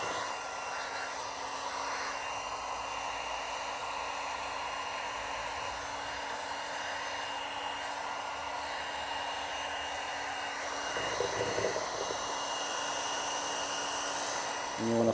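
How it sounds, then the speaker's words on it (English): A heat gun blows steadily on paint protection film being applied to a Tesla Cybertruck, a constant close airy roar with a high whine that holds unbroken throughout. "one other thing that we like to do is use some heat gun right here"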